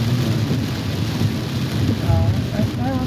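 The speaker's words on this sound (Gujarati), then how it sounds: "બધો ભયંકર વરસાદ છે" Heavy rain pours down at night on National Highway 48 between Chikhli and Navsari, a dense, constant roar of downpour with a low rumble beneath it and no pauses.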